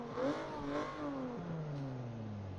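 A car with a 6-speed manual revs in Forza Motorsport 7, its engine note climbing and falling in steady sweeps, moderately loud with no talking.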